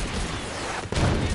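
A grenade detonates in The Division 2, a loud, close blast that cuts through dense gunfire and battle noise, followed by a rumbling low-end tail.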